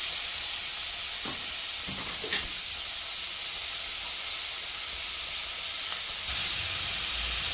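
Ingredients for paneer curry sauté in a hot pan, giving a steady, close sizzle and hiss with a few brief stirring scrapes, without talk.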